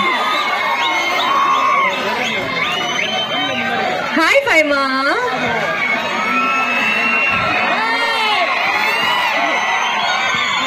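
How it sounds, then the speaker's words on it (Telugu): A stage audience at the Jabardasth comedy show cheers and whoops loudly for Faima, a sustained crowd roar with shouts and a voice speaking over it. "గట్టిగా చప్పట్లు."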